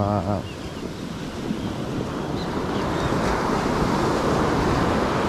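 Choppy sea waves washing onto a beach, a steady broad roar of surf with wind buffeting the microphone, continuous and fairly loud.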